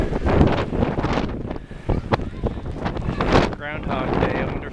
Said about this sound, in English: I don't know what the wind is, but it's pretty crazy